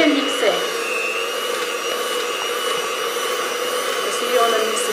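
An electric mixer whirs steadily at high speed while whipping shea butter into a whipped cream, a continuous close drone with a faint voice beneath it.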